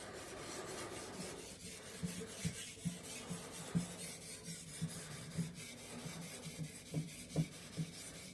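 A knife blade being re-sharpened on a wet whetstone, with soft rhythmic rasping strokes roughly every half second, quiet and close, with no talking.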